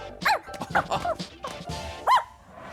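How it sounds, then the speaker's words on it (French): Cartoon dog barking and yipping in short, high, bright bursts with a whimpering edge, four or five calls spread unevenly, close and fairly loud. "Qu'est-ce que c'est que ça? Un chien!"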